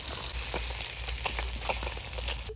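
Pabda fish frying in hot oil gives a loud, dense, continuous sizzle with crackling pops throughout.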